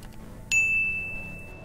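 A single bright notification bell ding strikes once and rings on as a clear sustained tone, standing out over a low, quiet background.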